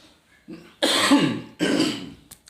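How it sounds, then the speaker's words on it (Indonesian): Two harsh, loud coughs close to the microphone, the first longer and rasping, the second shorter, with a faint throat noise just before and after. "Sorry batuk"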